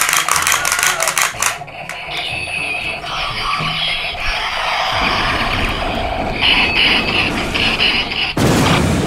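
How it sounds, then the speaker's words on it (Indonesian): Loud burst of electronic gunshot and battle effects from a knockoff Kamen Rider Drive DX toy transformation belt, with clattering, booming bursts and a sharp blast near the end, dense and close. "Ada suara tembakan sekali guys."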